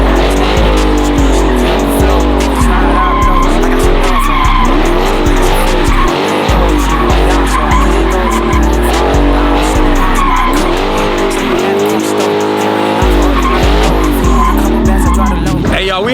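A car spins in place, tires skidding and squealing loudly in repeated surges while the engine revs hard, the sound continuous and close throughout.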